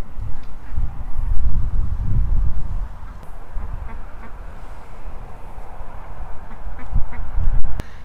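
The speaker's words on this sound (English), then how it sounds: "Oh, ducklings! Are you cross?" Ducklings quack in soft, scattered bursts at close range, over a steady low rumble of outdoor noise, with a couple of sharp clicks late on.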